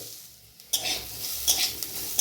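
After a brief quiet moment, a pan of potatoes and onions erupts into a close, bright frying sizzle, with scrapes of stirring adding bursts of crackle.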